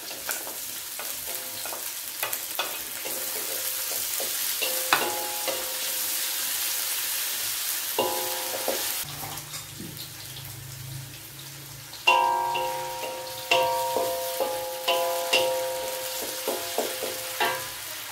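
Potatoes fry in a pan over shallots and garlic, giving a steady close sizzle broken by frequent clattering stirs and scrapes, with a louder burst of sizzling about two-thirds of the way through.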